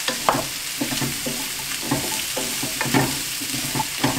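Raw Brussels sprouts browning in a pan sizzle and fry loudly, with repeated stirring scrapes and clatters spread across the clip, no voices.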